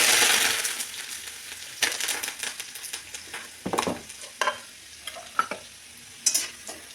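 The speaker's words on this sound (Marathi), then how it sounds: "ह्याच्यामध्ये मी लसूण घालते आणि कडीपत्ता घालून" Garlic and curry leaves sauté in oil with peanuts, a close sizzle that fades as scattered spoon scrapes and clinks against the pan punctuate it at irregular intervals.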